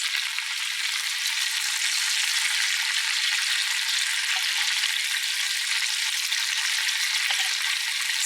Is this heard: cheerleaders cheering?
no